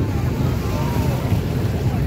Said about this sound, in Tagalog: On-board pa rin tayo sa bangka.